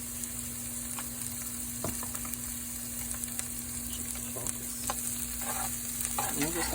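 Garlic paste fries in a pot for stew beef, a constant soft sizzle with a faint hum underneath and a few scattered scrapes of a spoon stirring it in, growing a little busier toward the end.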